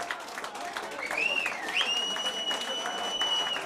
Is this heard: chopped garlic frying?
no